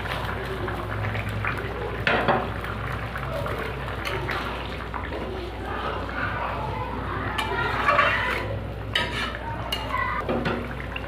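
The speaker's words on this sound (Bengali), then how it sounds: "ঝোলটা আমার ফুটে উঠেছে, এবার মাছ আর মাছের ডিমটা দিয়ে দেবো।" Rohu fish curry gravy simmering in a pot, a steady low bubbling and stirring texture with a few clinks of utensil against the pan, close and moderate throughout.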